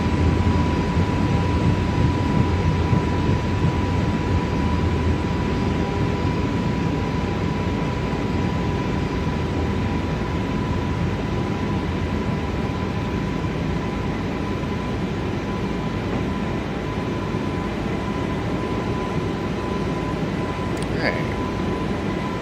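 Airbus A320 in Microsoft Flight Simulator 2024 climbing out with its landing gear retracting, a steady, loud, broadband engine roar with a faint tonal whine running unbroken throughout.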